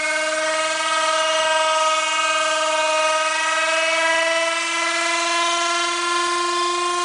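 An Ace-O-Club 5 pulse motor spins at high speed, giving a loud, steady high-pitched whine with strong harmonic tones that hold nearly constant and drift only slightly for about seven seconds, with no talking.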